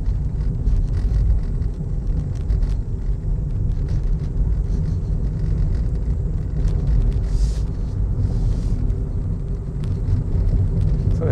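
Steady low rumble of a hybrid car rolling downhill with regenerative braking, air conditioning off, with a faint electric motor hum and road noise throughout, cicadas faintly audible in the background.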